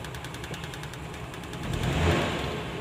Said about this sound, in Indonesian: Kalau diesel zaman dulu memang mesinnya agak berisik, tapi itu ciri khasnya dia.